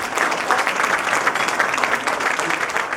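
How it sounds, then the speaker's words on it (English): Audience applause at an academic conference on the question of Palestine, a dense, steady wash of many hands clapping together that fills the room and holds evenly for about three seconds. "Big round of applause for all of them."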